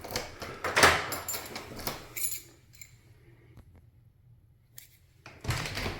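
An apartment door in Dinan is handled up close. Keys jangle, a latch rattles and the door clunks, then a quiet pause, and a final rattle and knock follows near the end.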